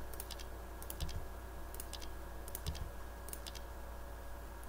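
Computer clicks from a player of the online game Dekaron come in a few quick, faint pairs and triplets over a steady low electrical hum, close and quiet, with no voices.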